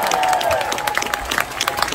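Audience applause from a crowd, a dense wash of clapping that stays steady and fairly loud for the whole two seconds, with scattered sharper claps standing out near the end.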